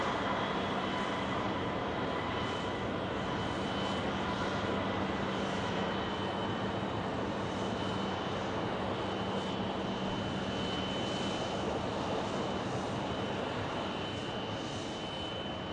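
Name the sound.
ATI aircraft arriving from Cincinnati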